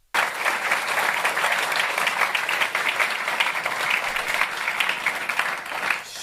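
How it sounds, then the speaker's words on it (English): Sustained applause from an audience at a political speech, dense steady clapping that starts abruptly and holds at an even level throughout. "Oh yeah, you just wait while people clap."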